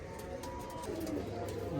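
A pigeon coos softly and steadily, close by, in a continuous low rolling call under faint background noise.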